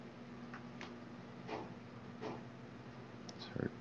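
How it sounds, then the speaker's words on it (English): Two faint, dull knocks land about a second apart in a quiet room with a low hum, followed by a soft brief clatter near the end. "Just heard two knocks."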